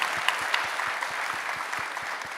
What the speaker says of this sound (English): let's give a round of applause for raising this beautiful human